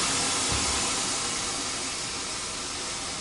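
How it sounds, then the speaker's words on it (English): A train brakes in Train Sim World 5 with a steady, loud hiss of escaping air that fills the whole stretch and fades only slightly toward the end, with no voices over it. "No, that's a train braking."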